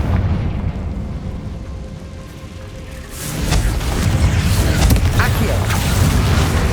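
A Confringo fire spell blast in Hogwarts Legacy erupts halfway through as a loud, sustained fiery roar with crackling bursts, following a steadier rumbling combat ambience.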